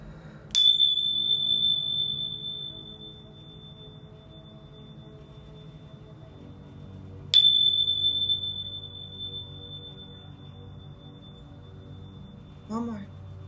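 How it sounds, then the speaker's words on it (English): A set of bells used in a tarot reading rings out in clear bright strikes, two loud tones ringing and decaying slowly with a fainter third near the end, against a quiet room with soft talk. "I'm going to go ahead and ring my bells here 3 times."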